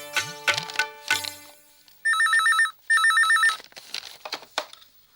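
An office telephone rings in a Tamil TV serial, two bursts of a trilling electronic bell, loud and close, following a jumble of short tonal beeps and noises with no talk over it.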